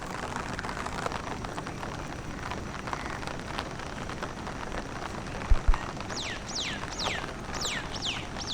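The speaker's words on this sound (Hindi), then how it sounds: "बारिश हो रही है अभी भी, मतलब बूंदाबांदी हो रही है बहुत तेज नहीं।" Light drizzle pattering steadily outdoors at a riverside spot in Haridwar after a night of heavy rain, a soft continuous wash with faint birds calling near the end.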